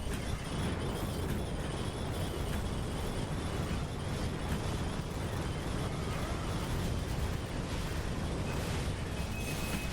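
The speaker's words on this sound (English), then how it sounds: "that is where the corp explosion comes in" Corpse explosion spell from a Warlock Deathbringer in the Chronicon action game, a dense, continuous wash of bursting, rumbling blasts layered over game noise that stays loud throughout without a pause.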